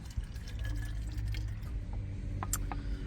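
Water pours steadily into a container inside a van, a continuous low gurgling stream with a few brighter drip-like splashes near the end, heard alone and fairly close.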